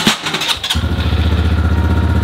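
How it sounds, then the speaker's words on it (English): A motorcycle on a farm starts after a few clattery cranking bursts, then settles into a loud, close, steady idle with a regular pulsing beat. "I wasn't so sure how useful a motorcycle would be on the farm, but there you go"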